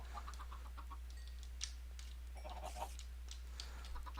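A chicken clucks a few times in a Minecraft-style survival video game, short faint calls over a steady low hum, with soft clicks and footsteps scattered around them.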